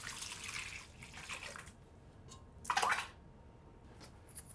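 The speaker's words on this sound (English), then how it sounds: "So I'm going to put my liquid first in the bowl." Liquid pours into a mixing bowl for brioche dough in soft splashy bursts, with a brighter, louder trickle near the middle and a quiet room behind, close and fairly faint.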